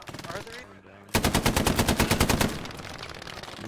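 A tripod-mounted machine gun fires in a realistic shooter video game, starting after a brief quieter moment with a long, loud, rapid burst of evenly spaced shots that continues at a somewhat lower level to the end.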